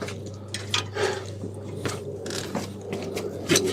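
Ratchet clicking as it tightens a brake banjo bolt during a brake installation, a few short mechanical ticks and clunks spread across a steady background hum, close and moderately loud.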